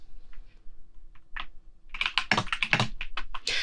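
Computer keyboard being typed on, with a few isolated key taps at first, then a quick run of loud, close clicks with short pauses between bursts.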